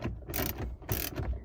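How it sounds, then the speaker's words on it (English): A ratchet backs out a 10mm bolt on a Nissan 350z door, giving short bursts of quick metallic clicking in two or three close, fairly loud strokes with brief gaps between them. "Back there is a bolt that you have to take off, so you go ahead and remove that. The bolt is a 10mm"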